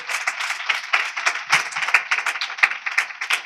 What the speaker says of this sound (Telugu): గట్టిగా చప్పట్లు కొట్టేసి.